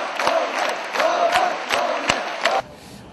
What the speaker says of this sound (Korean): 남북 청년 학생들은 일제히 기립박수를 보냈고 목소리 높여 조국 통일을 외쳤다